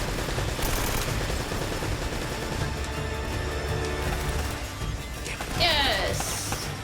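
Gunfire crackles in bursts through a combat scene in the video game Uncharted, with rapid automatic shots and impacts layered over game noise and a voice talking.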